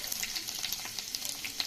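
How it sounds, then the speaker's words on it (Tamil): Chopped garlic sizzles and fries steadily in hot oil in a pan for rava kichadi, a dense, continuous crackle with brief stirring sounds and no talk. "முதல் பூண்டு கொஞ்சோண்டு போட்டுக்கலாம்"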